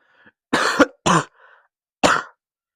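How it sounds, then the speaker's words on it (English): Three sharp coughs from one person nearby, the first two close together and a third after a short pause, each a harsh broadband burst with near silence in between. "I got a cough"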